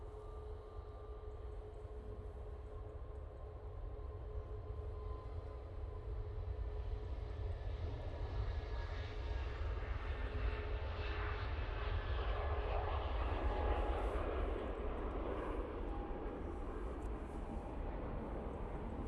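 An EasyJet airliner rolls down the runway at Manchester Airport on its takeoff run, a broad jet roar that builds gradually and stays fairly distant, continuous and unbroken.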